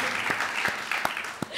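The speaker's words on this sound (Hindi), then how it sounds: "ताली बजाओ यार तब चलेगी ये ताली" Audience applause on a Comedy Circus stage set, a short burst of claps, fairly close and brief, with sharp individual claps near the end.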